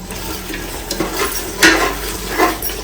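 Curd poured into onions sautéing in a pan for home-style mutton biryani, giving a close, steady sizzle with a few louder bursts of spattering and scraping.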